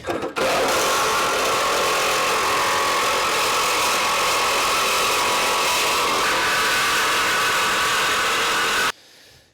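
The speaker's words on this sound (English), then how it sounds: "I got my Sawzall with a nice metal blade, and let's see if this does any better" A Sawzall reciprocating saw with a metal blade cuts during a tow loop install on a 2024 Jeep Wrangler 4xe, giving a loud, continuous, harsh buzzing that runs for about nine seconds and then stops abruptly.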